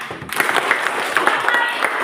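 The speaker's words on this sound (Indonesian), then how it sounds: "Baik, luar biasa. Tepuk tangan." A classroom of students claps hands in applause, a dense burst of close, bright clapping that runs steadily for a couple of seconds.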